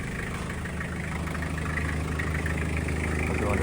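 A 1998 Toyota Hilux turbo diesel, an extended-cab 4x4 with a 5-speed manual, idles with a steady, dense low rumble that holds unchanged throughout, sounding close and fairly loud.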